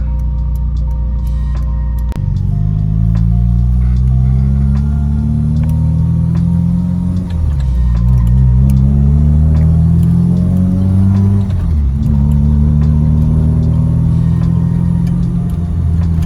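A first-generation Honda Jazz GD (V-TEC) drives through busy neighbourhood streets, its mid-pitched engine steady and close, rising and falling as it accelerates, eases off and pulls away again.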